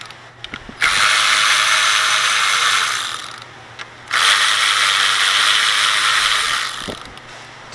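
A hand ratchet clicks in two long, loud, steady bursts close by, undoing the 10mm ignition coil bolts on a 2002 Toyota Camry 2.4-litre engine during a valve cover gasket oil leak repair, with a brief pause between runs.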